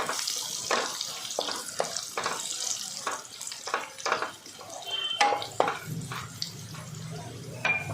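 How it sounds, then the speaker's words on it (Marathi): Onion and cashews fry in ghee with a constant bright hiss, punctuated by regular light stirring scrapes and clinks throughout. "ह्यामध्ये आता मी थोडे काजू घालणार आहे व हे सुद्धा 2 मिनटं परतून घेणार आहे"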